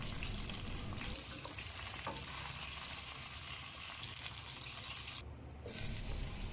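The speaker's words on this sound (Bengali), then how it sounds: "পেঁয়াজ কুচিগুলো দিয়ে ভালোভাবে ভেজে পেঁয়াজ বাদামি কালার হলে দিয়ে দিলাম আদা রসুন বাটা" Chopped onions fry in oil in a pan that was just used to fry fish for a Bengali fish curry. A soft, steady sizzle hisses on with no talking and drops out briefly near the end.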